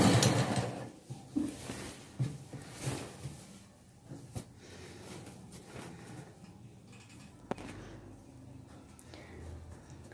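Sewing machine stitching frills onto the can-can layer of a lehenga, short bursts of mechanical whirring and clicking with pauses and handling noises, close by.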